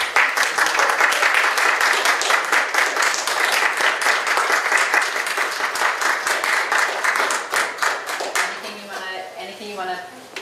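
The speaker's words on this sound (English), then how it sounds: "Let's give Matt a round of applause." An audience applauds a speaker at a gospel choir event with steady, dense clapping that holds for most of the stretch and then thins out, with a voice coming in near the end.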